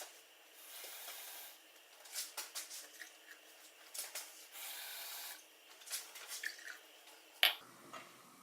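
Water is poured into a hot chocolate mix, heard as faint, intermittent splashing and dripping in short bursts, ending in one sharper clink, with no talking.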